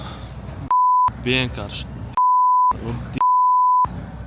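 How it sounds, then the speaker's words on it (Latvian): Phone app notification beeps: three sharp, steady electronic tones, the first short, then two longer ones, loud and close, alternating with a person speaking. "Rekur atnāk paziņojums uz aplikāciju."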